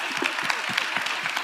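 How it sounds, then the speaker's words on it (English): An audience gives a panel a brief, steady round of clapping, close and even throughout. "If we can give the panel a round of applause, please."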